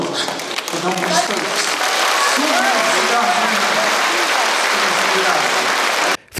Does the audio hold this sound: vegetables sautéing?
no